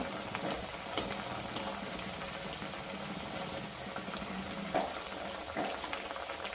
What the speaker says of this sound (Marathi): त्यात छान तेलामध्ये एकदम क्रिस्पी असं आपण तळून घ्यायचे